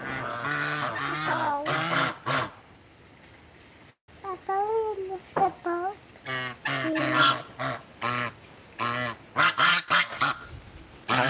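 A goose at close range honks in a series of loud, nasal calls, with a short quiet gap partway through before the honking resumes in bursts.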